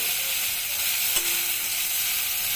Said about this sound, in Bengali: এখন এইভাবেই আলগা আলগা করে ভাজাটা করি